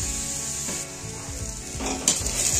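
Sliced radish stir-fries in a pan for a homestyle Indian dish, giving a close, continuous sizzle broken by scraping and stirring sounds, with no talk.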